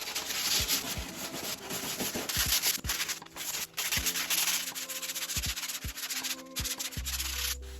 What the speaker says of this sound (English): So I started sanding this side a little bit.